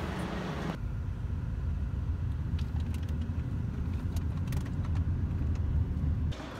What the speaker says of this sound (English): All our shit is back in this Volvo for the final ride home.